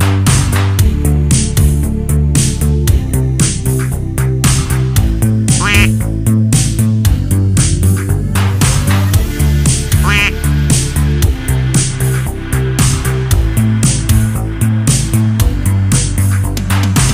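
Rubber duck quacks repeat in a regular rhythm over a loud, bouncy music track in a Just Dance kids' exercise game, playing continuously throughout.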